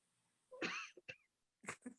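A man coughs indoors: one harsh, hoarse cough followed by a couple of short clipped coughs, then two more quick bursts, close and fairly quiet against a silent background.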